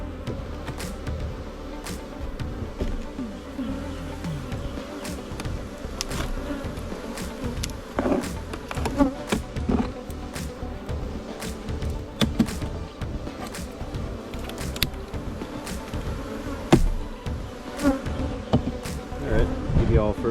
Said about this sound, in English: Not a bad population of bees.